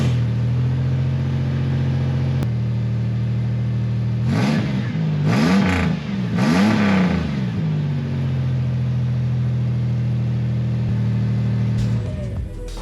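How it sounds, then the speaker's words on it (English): A third-generation Toyota 4Runner with a new exhaust system idles steadily, then revs in several sharp bursts around the middle before settling back to a low idle, loud and close with no talking. "let's see how much better she sounds now with a proper exhaust system"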